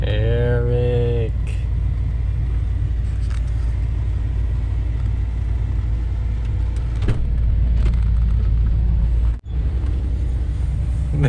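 A 1987 Ford Mustang engine fitted with FiTech EFI idles loud and close with a steady low rumble. A brief rising whine sounds at the start, and faint voices can be heard now and then.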